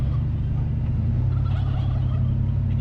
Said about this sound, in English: Oh, there's the turkeys again.